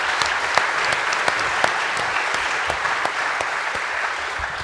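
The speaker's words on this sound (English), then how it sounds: "So if you give them a round of applause for the excellent job." A conference audience gives a sustained round of applause to panel members after a session on strategic ports, dense even clapping from a sizable crowd with occasional sharper claps standing out.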